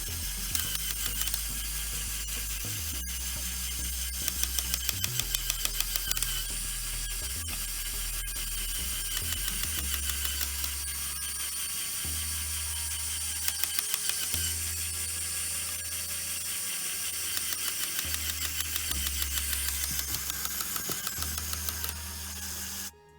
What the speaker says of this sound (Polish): ostatnia funkcja sterowana silnikiem, czyli wysuwanie i chowanie kół